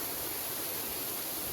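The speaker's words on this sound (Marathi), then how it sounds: "इकडे पडत आहे, फार जोरात पडत आहे पाणी." Water pours hard at Ghubadi waterfall near Jawhar, a dense, constant roar with no break, heard close and loud with no voices.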